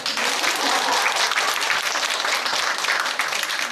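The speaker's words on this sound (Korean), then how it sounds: "박수 치셔도 됩니다." An audience applauds at the launch ceremony of a demonstration team for a multicultural family social integration project. Dense, continuous clapping sounds close and loud, with no talk over it.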